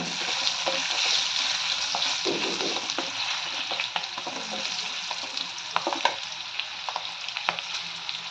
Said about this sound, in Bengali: পেঁয়াজটা গোল্ডেন হয়ে গেছে হালকা, কাঁচা লঙ্কা দিয়ে দিচ্ছি চিরা।